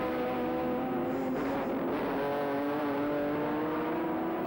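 Touring cars racing at Sandown in 1984, a BMW among them, their engines roaring loud and close in a sustained high-revving drone with a steady rising pitch.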